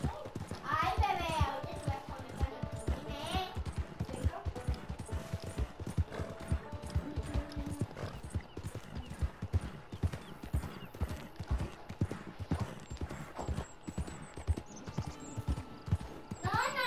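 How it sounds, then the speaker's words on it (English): Horse hooves clip-clop steadily in Red Dead Redemption 2, with a whinnying neigh near the start and again around the third second; a child and an adult speak in Spanish over the hoofbeats throughout. "Este caballo."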